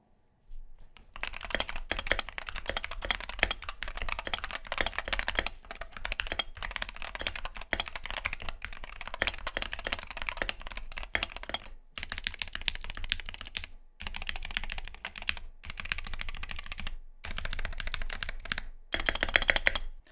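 Rapid, continuous clacky typing on a stock Wooting 60HE mechanical keyboard, close up, with a few brief pauses between bursts and no speech.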